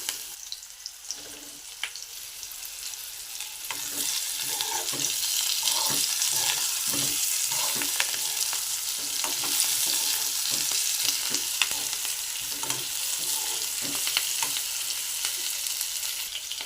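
Eggplants frying in a pan while being stirred, a continuous hiss of sizzling oil that swells after a few seconds, punctuated by repeated scraping knocks of a utensil, close up with no talking.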